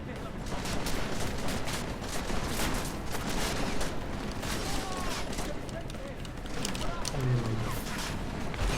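Rapid bursts of gunfire from Deus Ex: Mankind Divided crackle in repeated volleys through busy game noise, while a player talks over them.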